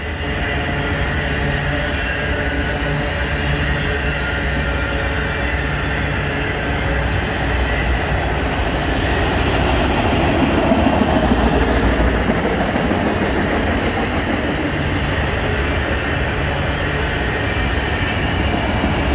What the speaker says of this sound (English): Looks like M216 Autorack train loaded, bound for Baltimore area.